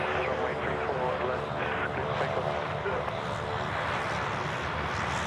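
An airplane takes off at Sydney Airport with a loud, steady roar of engines and propellers, while a voice talks over it.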